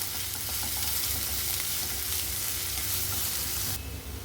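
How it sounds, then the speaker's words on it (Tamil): Onions sautéing in hot oil for a potato tikka masala, a steady close sizzle and crackle running throughout with no voices. "வெங்காயத்தை நல்லா வதக்கிக்கலாம்"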